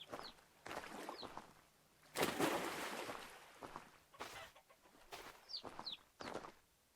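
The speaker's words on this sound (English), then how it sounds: "Yes, run, chickens." Chickens cluck in the Vintage Story video game, several short bird-like calls scattered across a busy mid-loud game soundscape with a louder burst of noise in the middle.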